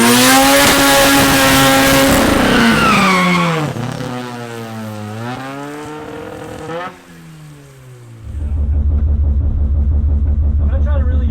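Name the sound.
race car engine accelerating on drag strip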